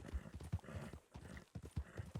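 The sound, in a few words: horse in video game Red Dead Redemption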